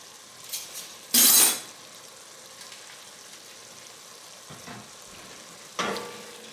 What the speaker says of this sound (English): Just gonna mix that right inside.